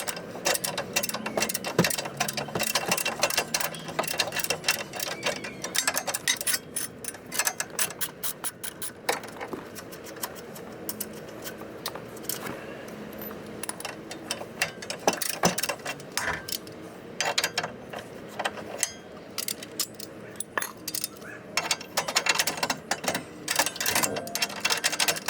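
A hand wrench works loose the coilover bolts on a Mazda Miata without an impact gun. It makes a continuous busy run of ratcheting clicks and metallic ticks, fairly close, with no talk.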